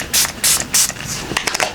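Makeup setting spray misted from a pump bottle in three quick, close hissing bursts, followed by softer shuffling sounds.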